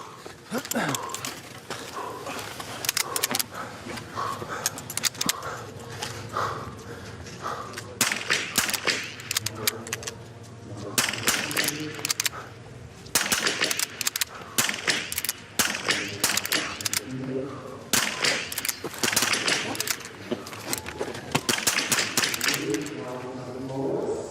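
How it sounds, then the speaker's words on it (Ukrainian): Sharp biathlon rifle cracks ring out irregularly at the shooting range during a men's 4x7.5 km World Cup relay in Nove Mesto, over continuous excited commentary, with crowd noise filling the background throughout. "Затримав Сергій третій постріл, не влучив"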